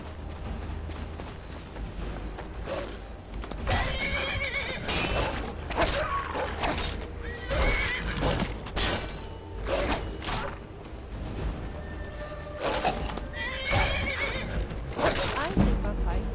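A horse neighs and whinnies loudly several times in Skyrim during a fight, with clattering hoof sounds and scuffling noises between the calls.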